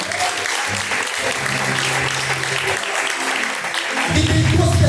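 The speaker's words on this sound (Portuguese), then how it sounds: "As palmas de novo, o nome do Senhor." A congregation claps together during a live evangelical church service, a steady dense wash of applause that swells louder near the end, with a preacher's voice carrying over it.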